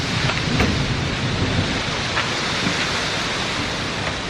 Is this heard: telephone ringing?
no